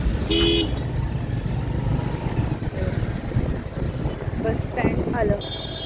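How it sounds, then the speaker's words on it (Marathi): Busy bus stand traffic with a steady engine rumble and repeated vehicle horn toots. Voices are present under the noise while passengers wait for a bus to Pune. "तर आम्ही आता बसस्टँडवर आलो पुण्याला जाणाऱ्या गाडीची वाट बघतोय"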